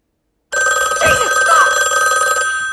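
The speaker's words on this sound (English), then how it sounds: "Get up and answer the phone." A telephone bell rings loudly in a film scene. The trill cuts in abruptly and holds as a bright, steady ring with a faint voice underneath.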